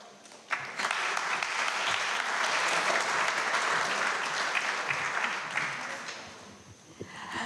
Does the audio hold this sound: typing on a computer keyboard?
no